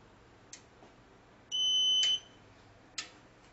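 A solar power inverter in a 3000 W solar system gives a short, clear electronic beep of about half a second after its AC output switch is held, with faint clicks and handling noise before and after it.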